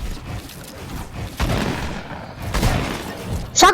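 A shotgun fired in a multiplayer video game, heard as a few short booming blasts with a sharp crack near the end, loud against steady background game noise.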